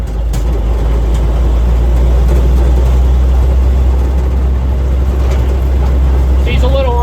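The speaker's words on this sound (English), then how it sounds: "She's a little rattly, but I mean, if I was 87 years old, I'd be rattly too." An 81-year-old army truck idles with a loud, steady low engine drone and a faint rattle, the rumble continuous throughout.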